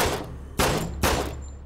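Three gunshots from a handheld weapon in the VR zombie shooter SURV1V3 fire at an even pace, each a loud, booming blast over a constant low rumble.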